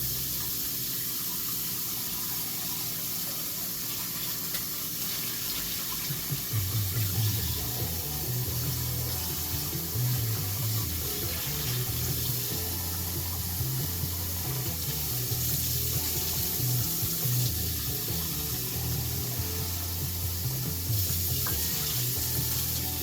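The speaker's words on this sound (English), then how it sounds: "I gotta rinse this quick because I gotta use this pot again." A pot gets rinsed under a running kitchen tap while making Good Seoul topokki carbonara instant noodles; the water is a steady hiss that turns splashy and uneven as the stream strikes the pot, with no voices.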